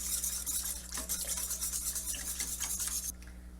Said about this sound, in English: Went ahead and grab the whisk. Get everything whisked together.